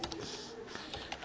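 Fingers tap quick, light keystrokes on a computer keyboard while a command is entered, a soft close-up patter of several clicks with no talking.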